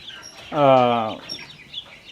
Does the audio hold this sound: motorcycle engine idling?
no